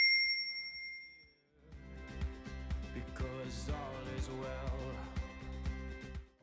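A bright notification bell dings cleanly and rings out alone, followed by a lively rhythmic musical sting with plucked and percussive notes, no speech.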